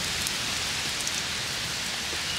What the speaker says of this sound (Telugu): బ్రో వర్షం వచ్చేసింది బ్రో